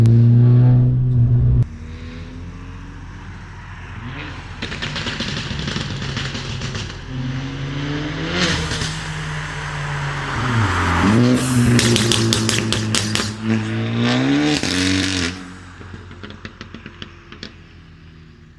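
A VW Scirocco with a pops-and-bangs map revs up repeatedly, its engine note climbing and falling through several blips with sharp crackles on the overrun, loud and close.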